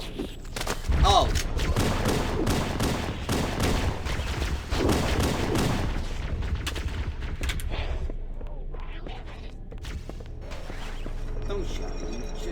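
Gunfire rattles through a firefight in the video game Halo 1, with dense bursts of close shots and booms in the first half that thin out afterward, with a voice talking over it.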